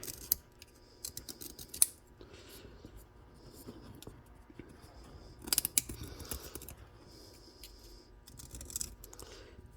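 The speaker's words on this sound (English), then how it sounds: "And we do that again with the scalpel." A scalpel shaves an Arabic reed pen (qalam), giving close, crisp scraping and snipping strokes in irregular bursts, with quieter handling noises between them.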